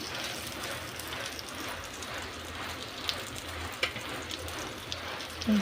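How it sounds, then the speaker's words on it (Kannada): Bangda mackerel fish frying in a pan, a soft, steady sizzle with a few faint clicks and taps near the end, quiet and without talk. "ಈಗ ಮತ್ತೊಂದು ಸೈಡ್ ಕಾಯಿಸೋಣ. ಚೆನ್ನಾಗಿ ಫ್ರೈ ಆಗಬೇಕು"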